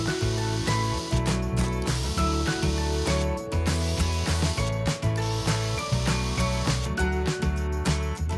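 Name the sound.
screwing guide rail of aluminium sliding gate to ground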